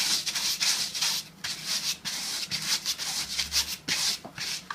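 Sandpaper rubbed briskly over the bristles of a paint brush to shape it, a dry scratchy rasping in quick repeated strokes, close and steady with no talking.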